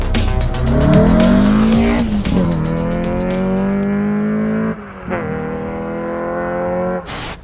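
A Peugeot 309 GTi engine pulls hard through rising gears with loud, close tire squeal and skidding, the note dropping at each shift before climbing again, ending in a brief burst.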